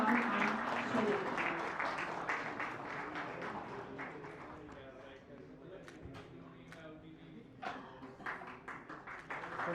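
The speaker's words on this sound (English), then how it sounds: "So big round of applause everybody for Kushag and Shailendra." An audience at an award event claps for the recipients, a dense wash of applause that is strongest at the start and slowly thins out, with scattered individual claps and voices mixed in.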